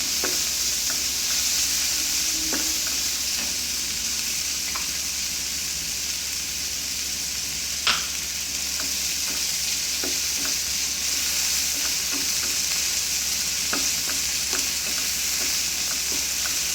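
Butter chicken fried rice sizzles steadily as it is stir-fried in a pan over a slow fire, with intermittent scraping and clinking of the utensil against the pan.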